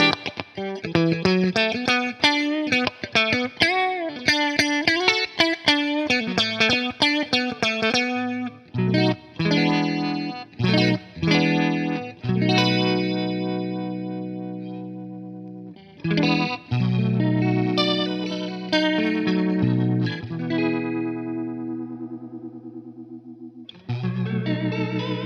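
An electric guitar plays through the rotary setting of a FLAMMA Mod modulation pedal, with strummed chords and melodic runs carrying a swirling, warbling chorus-like shimmer, loud and alone with short pauses between phrases.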